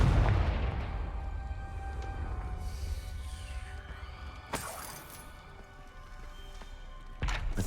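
A Confringo fire spell cast in Hogwarts Legacy bursts with a sharp crackling blast midway, over a steady low game ambience with a second burst near the end.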